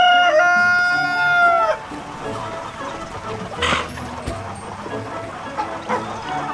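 Farm chickens at feeding time, opening with a loud, close rooster crow followed by scattered clucks and soft fowl chatter, with a person talking in the background.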